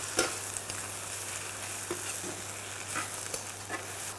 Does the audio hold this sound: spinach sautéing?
yes